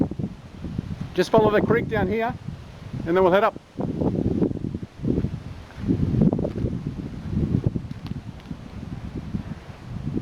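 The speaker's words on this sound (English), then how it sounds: "Notice how that wind started up quick again?" Gusty wind blowing along Byarong Creek on a bush walk near Mt Keira in the Illawarra, rising and falling in rushing waves at the microphone while people talk nearby.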